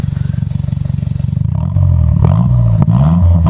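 A Hyundai Genesis Coupe 2.0T idling with a rapid pulsing rumble, then revved into a louder, deeper, sustained roar that rises and settles, close by with no talking.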